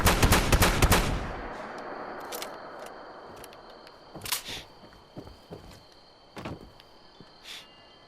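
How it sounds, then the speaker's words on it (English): In the Fallout 76 video game, a loud, sharp gunshot burst opens the clip and fades into a decaying tail, followed by fainter metallic clicks and thuds at intervals, with no speech. "let's go for the headshot."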